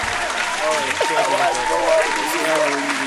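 Podcast hosts clapping along, a busy patter of hands heard close under overlapping talk and laughter.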